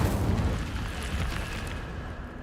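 Incendio fire spell in Hogwarts Legacy, a dense, loud roaring burst of flame with a low rumbling body that stays steady and then slowly thins out over a couple of seconds.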